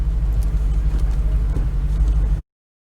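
A Dodge Challenger Widebody idles in gear on a track, giving a steady, deep engine rumble close by that cuts off abruptly near the end.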